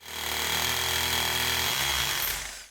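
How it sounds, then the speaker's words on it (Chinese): An electric rotary hammer chisels at a concrete wall base during upstairs renovation, giving a loud, continuous buzzing drone that holds steady for a couple of seconds and then shifts pitch before stopping. "得用这个叫电锤的工具凿，听起来就是这种声音"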